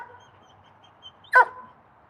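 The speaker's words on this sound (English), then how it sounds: "who's that puppy?" A puppy gives a single short, sharp bark close by, standing out against a quiet background with a faint hum.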